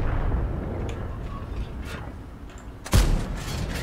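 A tank cannon fires once in World of Tanks during a 30 vs 30 battle, a sudden heavy boom near the end that stands out over a low engine rumble and background game noise.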